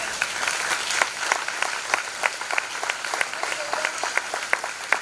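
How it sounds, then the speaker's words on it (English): At a police department community dialogue event, an audience gives a round of applause, a steady crowd clapping with a few sharper individual claps standing out near the front. "Let's give him a round of applause"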